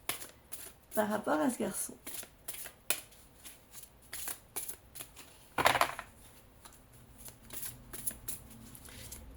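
A fairy-tale oracle card deck is shuffled by hand in quick crisp riffles and short flurries of card clatter, close and fairly quiet, while someone speaks French briefly.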